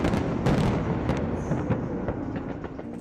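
New Year fireworks exploding above a building during a celebration: a dense, loud barrage of overlapping booms and crackling bursts, rumbling continuously with sharper cracks standing out.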